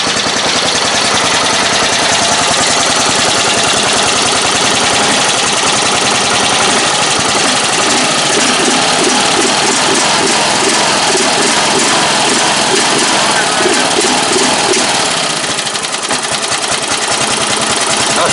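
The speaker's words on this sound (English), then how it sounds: "Oh, she'll sit there and idle for days." An old flathead engine on a Hazzard County sheriff-themed lawn mower idles loud and close, a steady rapid chugging drone that runs unbroken throughout, with no voices over it.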